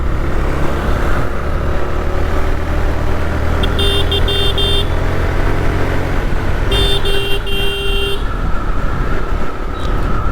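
A motorcycle rides at speed along a road, its steady engine and wind rumble loud and constant, with two brief bursts of vehicle horn toots from nearby traffic.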